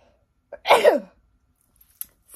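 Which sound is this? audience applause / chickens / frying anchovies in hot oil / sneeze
sneeze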